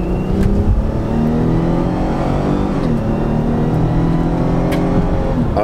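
A 2017 Dodge Journey GT crossover accelerating hard toward 100, its engine note climbing steadily with loud, close cabin drone and whirring, no talk over it.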